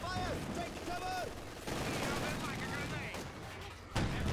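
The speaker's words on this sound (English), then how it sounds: "Where do we get artillery fire from now?" A Company of Heroes 2 battle sounds from a distance, with booming explosions and gunfire mixed into a steady rumble of combat. A few louder impacts stand out near the end, and voices talk over the noise.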